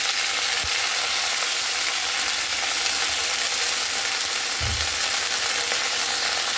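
Pumpkin leaves frying in mustard oil with black cumin give off a steady, dense sizzle that holds throughout, with a couple of low thumps from the pan partway through.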